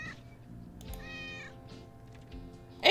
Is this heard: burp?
no